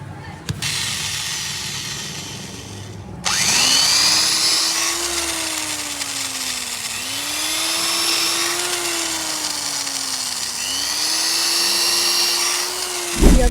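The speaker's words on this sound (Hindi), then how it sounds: "अब सिलाई हो रही है।" A machine stitching stationery runs with a steady motor whine that rises and falls in three repeated sweeping passes, close and fairly loud over a background hum.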